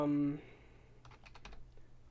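A short burst of light keyboard typing, a few soft quick key clicks following a brief tone, quiet and close, while playing Minecraft.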